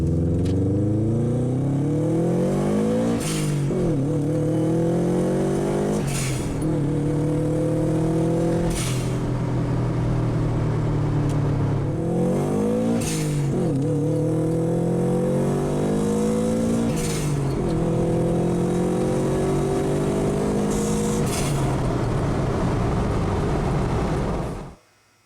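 A Subaru WRX running very high boost is repeatedly revved hard at full throttle, loud and close, the engine climbing and dropping through several pulls with sharp shifts over about 25 seconds before cutting off.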